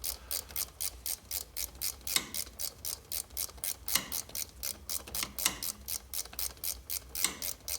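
Rapid, steady mechanical clicking from a worn cam chain tensioner bearing on a 2004 Harley-Davidson FLHT touring bike with an 88 Twin Cam engine, turned by hand under drag, close and continuous with no talking.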